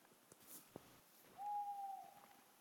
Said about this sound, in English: No, I heard an owl go.